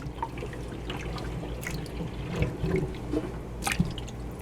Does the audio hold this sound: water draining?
yes